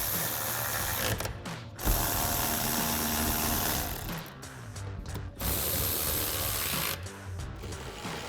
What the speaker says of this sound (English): So now we're gonna just use our 15 mil socket on our ratchet to tighten down all of our hardware.